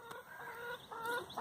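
Hens kept on an allotment, a mix of brown layers around two years old, cluck in short repeated bursts close by, with no talk over them.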